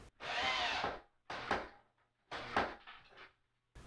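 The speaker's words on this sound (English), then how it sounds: "Got it up on the wall, ran in one of my screws." A power drill driving screws through a reclaimed plywood bookshelf into a wall: three close whirring bursts, the first longest at about a second, then two shorter runs separated by pauses.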